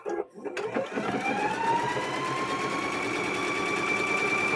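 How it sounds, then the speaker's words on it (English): A sewing machine stitches across sturdy pleather on a door stop. The motor gives a close, steady whine that climbs in pitch and then holds evenly after a brief start. "So we're going to stitch across this."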